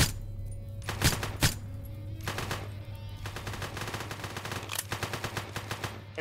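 Video game gunfire in bursts, with a few sharp, loud shots early on, then stretches of rapid automatic fire layered over a steady low hum and background game noise, with no voices.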